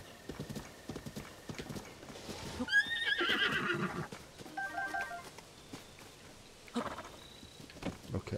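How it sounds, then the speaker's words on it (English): A wild horse in Zelda: Tears of the Kingdom lets out a loud, shrill whinny over steady clip-clop of hooves, then a second shorter neigh follows as galloping continues. "Horse, you gotta control yourself better. This one's a wild one,"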